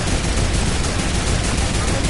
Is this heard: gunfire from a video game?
yes